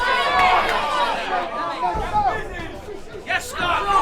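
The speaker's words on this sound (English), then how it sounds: "Crowd coming alive." A boxing crowd at a gym fight night stirs into a steady roar of chatter and cheers, with a commentator's voice running over the noise throughout.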